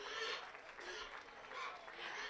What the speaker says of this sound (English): let's give a round of applause for our first class of senior showmen